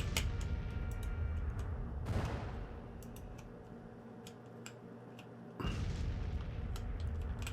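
Musket volleys and artillery fire in the Age of Mythology game, in a Union Civil War campaign battle at Chantilly: two heavy, broad blasts, one early and one late, with scattered clicking and rumbling between them and no talk.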